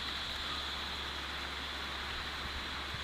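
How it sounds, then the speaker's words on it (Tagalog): Heavy rain pours onto a house roof in a dense, continuous hiss, steady and fairly faint with no distinct drops or voices. "Diba, narinig na yung tunog ng ulan."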